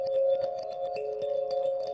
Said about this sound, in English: I took some kalimba recordings that I've got and fed them through some granular synth plugins